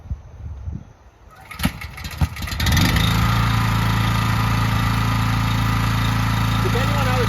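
A BCS walk-behind tractor fitted with a flail mower on a farm in Alae, Hawaii, starts with a few sharp knocks, then settles into a loud, steady, close engine drone with whirring blades that runs on without a break.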